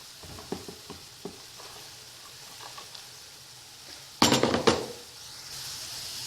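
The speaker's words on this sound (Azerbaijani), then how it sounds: "Qovurulan kök çuğundurun üzərindən də samanvari doğradığım kələmi əlavə edirəm." Shredded cabbage tipped into a pan of fried beetroot for borscht, with a few soft taps and clinks of stirring, then a sudden loud burst of sizzling that settles into steady frying.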